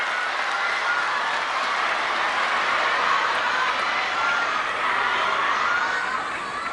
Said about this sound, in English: listen to this raucous crowd